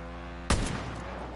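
A single loud gunshot fired in Far Cry New Dawn, a sharp sudden crack followed by a short decaying tail, standing alone against steady low background noise.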